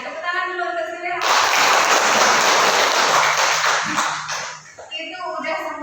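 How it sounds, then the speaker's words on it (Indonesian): A classroom of students applauds Sylvia with a loud, dense burst of clapping lasting several seconds, framed by a teacher's voice speaking before and after. "Tepuk tangan dulu untuk Sylvia."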